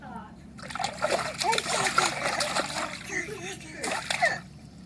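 A baby splashes water in a pool, with irregular close splashes and sloshing over several seconds while a voice babbles and chatters alongside.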